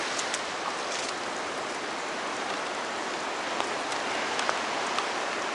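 Steady rain pours down on a wooded campsite among pines at Cape Lookout during a hurricane, a dense, even hiss of drops on surfaces with no voices.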